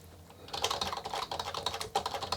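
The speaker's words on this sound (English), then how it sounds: "Let me type something more." Keys clatter on an Amstrad NC100 Notepad computer keyboard in quick, uneven bursts of close clicks, quiet at the start and then typing steadily; no talk.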